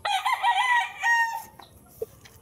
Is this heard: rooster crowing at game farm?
yes